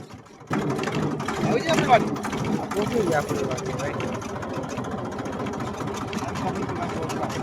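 A tractor engine starts up and runs close by on the way to a farm field, holding a steady mid-pitched mechanical drone under people talking.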